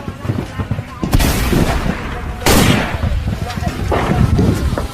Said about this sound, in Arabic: صالح الذخيرة تكمل الآن، باقي إلى 3 طلقات